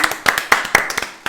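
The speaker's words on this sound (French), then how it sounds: "le porteur de projet, on peut l'applaudir." A small group claps for a project presenter on a French startup pitch show, a dozen or so sharp, uneven hand claps over about a second, close and fairly loud with no talk.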